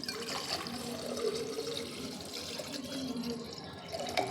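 Water poured from bottles into a clay pot, a continuous splashing, gurgling flow that stays steady throughout at moderate loudness.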